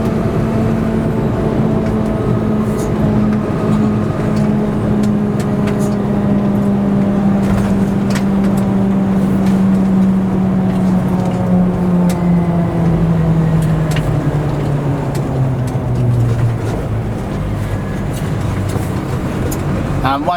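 An Isuzu NPS 4x4 truck drives around roundabouts, its engine droning steadily and loud from inside the cab, pitch slowly sliding down as it slows for the bends, with someone talking over it.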